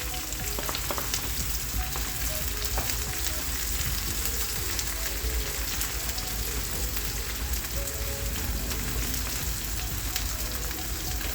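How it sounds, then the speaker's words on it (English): Red onions fry in hot oil in a wok for a mutton liver wet fry, giving a dense, steady crackling sizzle like rain that runs unbroken and close throughout, with no voices. "I think my oil is hot enough, so I'm going to put in my red onions"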